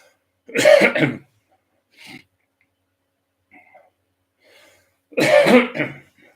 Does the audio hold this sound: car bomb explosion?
no